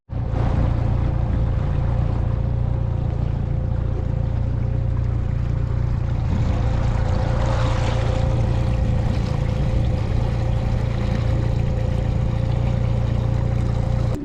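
Motorboat cruising across Kings Bay near Crystal River, Florida, as a steady loud engine drone with rushing water and wind noise that runs unbroken throughout, with no talk.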